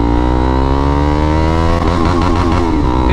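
A KTM Duke 390 motorcycle accelerates hard in first gear, its engine note climbing steadily in pitch, then roughening and wavering near the top of the rev range, loud and close with no talking.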